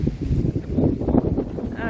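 Strong wind buffets the microphone outdoors in a garden, producing continuous low rumbling gusts and flutter that fill the short clip.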